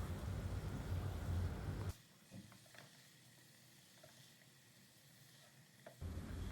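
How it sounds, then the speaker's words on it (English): Paneer strips and vegetables sizzle in a hot spice-coated pan while being gently stirred; loud frying hiss starts, drops to a quiet lull for several seconds, then returns. "very gently and carefully we will mix the paneer strips along with the veggies"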